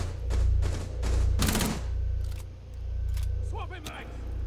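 Tachanka's mounted turret firing in Rainbow Six Siege: rapid bursts of gunfire ring out amid game noise, with a voice talking over part of it.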